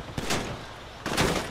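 In GTA V, gunfire hits an armored truck in two quick, loud bursts of rapid shots, with a short lull between them.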